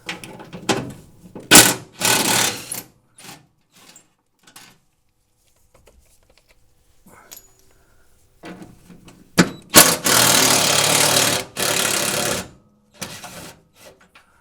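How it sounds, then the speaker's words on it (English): Bolts coming out of the inner fender well of a second-generation Chevrolet Camaro, heard as close, short bursts of tool clicking and ratcheting broken by silent pauses, with a longer steady run near the end. "Start removing some of these bolts."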